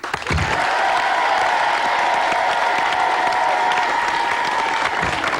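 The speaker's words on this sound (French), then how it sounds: "je vous demande de lui réserver une ovation, Guy Roux" A studio audience on a French TV football show gives a sustained ovation for Guy Roux: loud, dense applause with some cheering, steady for several seconds and fading slightly at the end.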